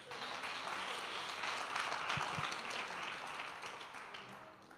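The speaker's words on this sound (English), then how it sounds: "Let's clap hands for them." A church congregation clapping hands together, a dense, even patter of many hands sustained throughout, fairly faint and distant with no voices over it.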